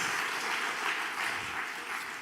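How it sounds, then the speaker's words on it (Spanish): A church congregation claps in dense, steady applause, a continuous wash of many hands that holds at an even level throughout without speech rising above it. "Ese es un buen lugar para aplaudir"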